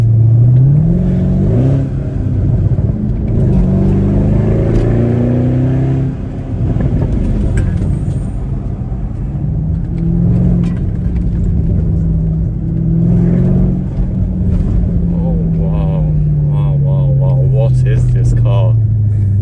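A Mercedes-Benz ML63 AMG engine revs and roars repeatedly, deafeningly loud up close, rising and falling in pitch, with a voice talking over it.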